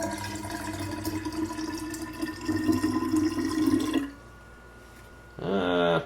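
Water is poured into a hookah base as a steady trickling splash that runs for about four seconds and then stops, followed by a short quiet gap before a brief burst of another sound.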